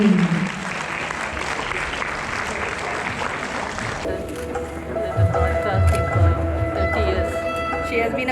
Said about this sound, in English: Shall we all give her, as she deserves, a good round of applause this evening.